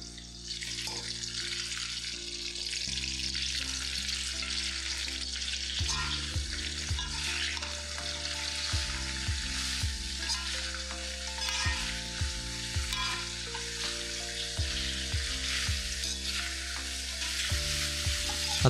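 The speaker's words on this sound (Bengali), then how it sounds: "আর তারপর একে একে আমি বাকি সব ভেজিটেবলই ভেজে নেব" Mixed vegetables sizzle and fry steadily in a hot pan over medium-high gas, with occasional stirring and light clinks under a continuous crackle, while soft background music plays throughout.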